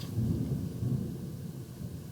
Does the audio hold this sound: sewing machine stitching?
no